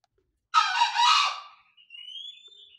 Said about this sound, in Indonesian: Nah, ini burung cucak hijau yang jantan.